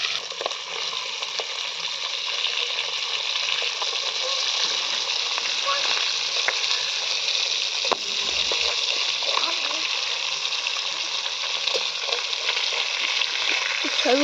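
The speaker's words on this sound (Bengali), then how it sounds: "মাছগুলো এক পিঠ ভাজা হয়ে গেলে এবার আমি উল্টে দেবো" Pangas fish pieces fry in hot oil with a dense, steady sizzle, close and continuous, broken by a few faint clicks as pieces are turned over.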